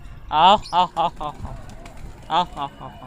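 Several soft, breathy coos from newly acquired pigeons sound close by in short bursts, with a pause before another cooing phrase.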